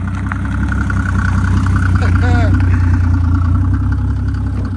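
A Mercedes OM603 diesel engine fitted with a larger HY35 turbo and no intercooler runs at a steady idle, a loud low rumble close by with a faint whistle rising briefly partway through.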